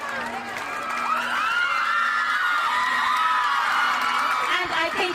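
Children and a crowd cheer and whoop loudly at a school annual sports meet, a sustained, dense roar of young voices filling the whole stretch, with shouts rising and falling over a steady low hum.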